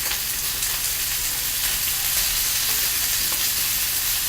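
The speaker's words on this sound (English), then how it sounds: "I'm seeing it kind of bubbling a little too strongly, so I'm going to turn my heat down just a touch" Steak simmers in a pan, giving a steady close, dense sizzle and bubbling hiss that holds at an even level throughout with no talking.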